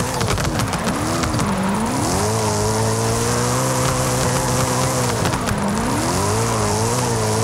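Race car drifting in the video game Forza Horizon 5, its engine wailing and shifting pitch continuously while tires squeal through the slides, loud and close throughout, with no voices.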